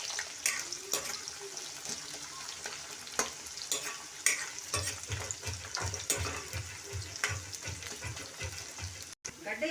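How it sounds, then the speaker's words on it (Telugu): Onions fry in hot oil with spices in a kadai for Andhra-style chicken curry, a close sizzle broken by repeated scraping stirs and clatters against the pan. "బాగా వేయించుకోవాలి ఎర్రగడ్డ."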